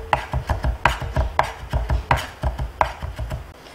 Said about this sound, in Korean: 모아가면서 다지고 있습니다